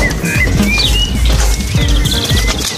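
Pigeons returning to a loft flap and land, giving a busy flurry of wingbeats and scuffling with chirps and coos close by, continuous and loud with no talk.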